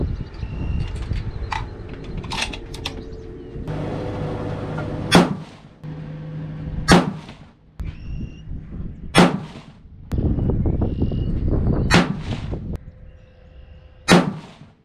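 A 6.5 PRC rifle loaded with H1000 powder and 153-grain Hornady A-Tip bullets fires five sharp, loud shots spaced a couple of seconds apart, each ending in a short echo, with quieter background noise between them.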